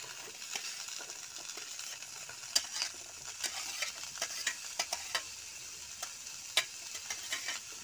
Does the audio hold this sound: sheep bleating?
no